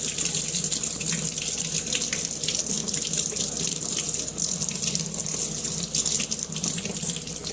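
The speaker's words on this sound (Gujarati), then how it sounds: "તો ચલો હાથ ધોઈ દઈએ" A tap runs steadily and fairly loudly while hands are washed, with a constant splashing stream into a sink throughout.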